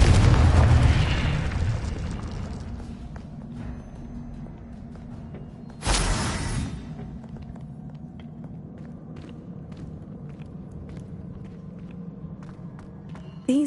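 Confringo blasting curse explosions in Hogwarts Legacy: a loud burst at the start and a second sharp blast midway, each fading into a low rumbling tail, with footsteps and quieter game ambience in between.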